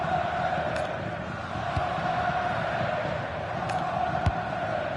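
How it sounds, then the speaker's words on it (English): Stadium crowd noise in the FC26 football video game, a continuous broad roar of supporters cheering and chanting, filling the background at steady loudness with occasional sharper shouts rising out of the din. "Well, just listen to this crowd."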